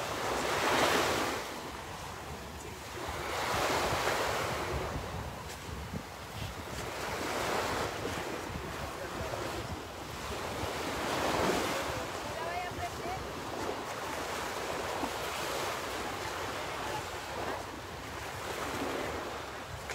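Ocean surf rolls in on the Miami seafront, waves breaking in slow repeated surges under steady wind buffeting the microphone.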